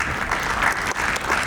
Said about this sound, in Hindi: तो जोरदार ताली से इनका स्वागत करें।